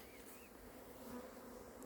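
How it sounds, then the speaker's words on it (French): A steady, close drone of many honeybees around a recovered swarm at Varennes-sur-Seine, with an occasional louder bee passing near. "Ouais, il y a une ou deux abeilles qui attaquent."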